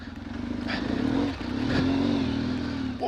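An off-road motorcycle engine drones steadily close by on a trail in the Ardennes, rising and dipping as it rides, with a sharp rev at the end.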